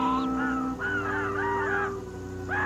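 Crows caw in the tangled branches of a forest at sundown: a series of harsh, rising-and-falling calls, fairly close and loud, with a soft tonal music bed underneath.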